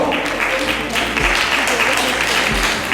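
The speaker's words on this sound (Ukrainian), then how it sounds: "Оплески нашим спікерам, будь ласка, на сцену." Sustained applause from a crowd at a women's forum in Dubai fills the whole stretch, steady and dense, with faint voices mixed underneath.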